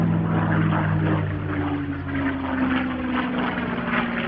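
CA-18 Mustang, an Australian licence-built P-51, flying with a Spitfire Mark 8 over RAAF Edinburgh airshow, a loud close droning piston-propeller roar with a steady low engine tone that swells and holds, no talk.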